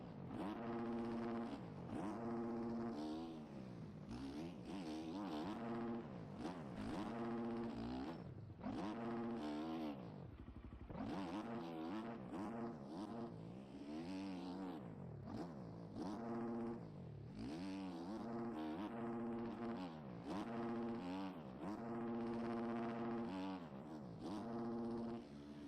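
Motocross bikes race in the MX Bikes video game, including a Husqvarna, with a loud, continuous engine whine that rises and falls through gear changes and revving, several bikes layered together close by, with no talk.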